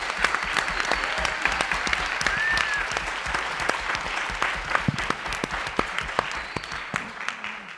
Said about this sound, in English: I do want to give Sarah a round of applause